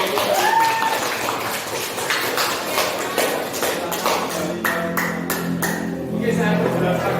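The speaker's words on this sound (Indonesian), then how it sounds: "Kasih tepuk tangan dong." Audience applause in a classroom presentation session, a burst of indoor clapping that runs unevenly through the clip, fairly loud and close, with voices mixed in among the claps.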